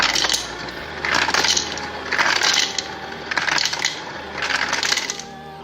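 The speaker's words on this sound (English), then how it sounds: "come over here to the fridge and let's get some ice" Ice cubes drop from a refrigerator dispenser into a glass in several loud, rattling bursts, each clattering run followed by a brief pause, with no one talking.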